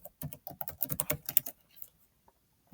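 A computer keyboard being typed on: a quick burst of close, crisp key clicks for about a second and a half, then quiet with one or two stray taps.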